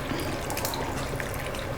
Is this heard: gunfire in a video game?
no